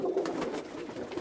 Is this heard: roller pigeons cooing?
yes